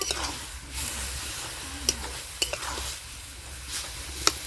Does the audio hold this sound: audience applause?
no